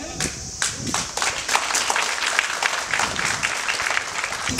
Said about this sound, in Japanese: どうぞ皆様温かい拍手をお願いいたします